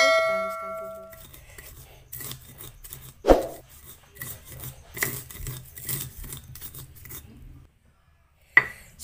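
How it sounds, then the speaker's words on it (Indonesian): Peanuts, chili, garlic and salt are ground in a mortar, with irregular scraping and rubbing strokes punctuated by occasional sharp knocks of the pestle, close and moderately loud. "Ini kacang, cabai, bawang putih, dan garamnya dihaluskan."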